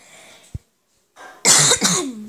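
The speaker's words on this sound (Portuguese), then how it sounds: "minha tosse tá muito ruim da garganta" A harsh, raspy cough from a sore throat bursts out after a short pause, with a rough throaty follow-through.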